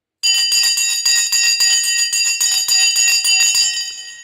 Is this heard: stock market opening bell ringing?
yes